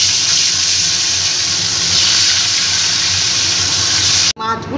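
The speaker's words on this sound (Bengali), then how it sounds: "এবার মাছগুলোকে আমি প্রথমে ভেজে নেব।" Shol fish frying in hot mustard oil in a kadai, giving a steady, loud, hissing sizzle that runs unbroken before cutting off abruptly near the end.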